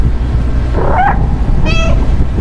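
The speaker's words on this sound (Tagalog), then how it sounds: "Meow, meow." A cat meows twice in the video game Stray, the calls short and clear over a steady low rumble of game background sound.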